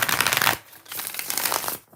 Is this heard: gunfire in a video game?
no